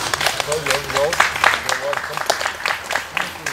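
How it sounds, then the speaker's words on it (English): An outdoor crowd at a Francis Ledwidge commemoration claps for Joe Ledwidge, the poet's elderly nephew, a steady patter of moderate applause with scattered voices talking over it. "maybe we might have a little round of applause for Joe"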